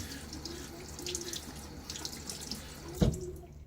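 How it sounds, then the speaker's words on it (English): Water running from a tap over a shaving soap tub, steady splashing and trickling that ends with a sharp knock as the tub is set down. "I'm going to rinse the side of the tub."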